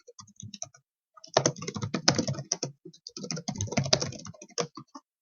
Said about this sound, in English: So type that question here